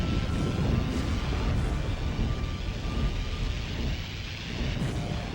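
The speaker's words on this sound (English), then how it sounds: "if those lightning bolts do happen to hit you, they'll rip your health right out" Lightning bolts strike during a dragon boss fight in the video game Drakan, a steady loud roar of thunder and crackling rain-like noise filling the whole stretch with a few stronger surges.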